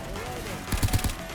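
Sniper gunfire from the game Notoriety, heard as a quick burst of four sharp shots over a steady background hum, with game ambience continuing around them.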